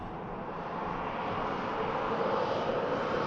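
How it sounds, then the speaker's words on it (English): An Air Transat long-range Airbus A321neo airliner comes in to land at Manchester Airport, its engines a steady, broad, fairly loud roar that swells slightly toward the end, with no voices. "Beautiful Air Transat long range Neo."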